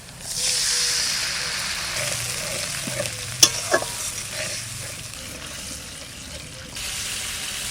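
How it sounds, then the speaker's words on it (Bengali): Onions fry in a pan with a constant sizzling hiss while being stirred, with a couple of sharp utensil clicks midway. "পেঁয়াজটা ভাজা ভাজা হয়ে গেছে"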